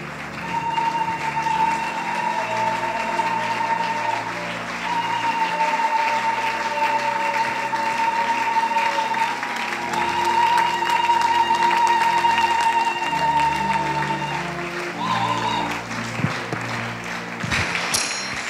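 A church congregation applauds and cheers steadily for about eighteen seconds, with sustained instrumental tones running underneath and a brief swell near the end.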